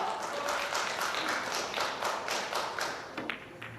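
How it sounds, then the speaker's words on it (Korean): Audience applause and scattered clapping at a women's professional three-cushion billiards semifinal, a steady wash of many hands with sharp individual claps, moderately loud throughout. "점수가 한 점 한 점 쌓일 때마다 박수 소리가 더 커지고 있습니다"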